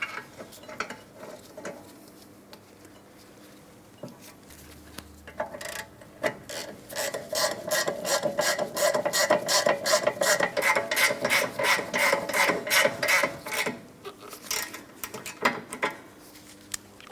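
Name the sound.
torque wrench tightening brake caliper bracket bolts, Mitsubishi Outlander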